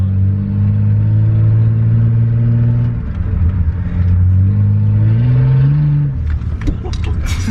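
Bosozoku-style Toyota Cressida on its first drive, the engine humming loudly with a strong low tone that climbs with each gentle acceleration and dips between pulls, heard close from inside the car with light clatter near the end.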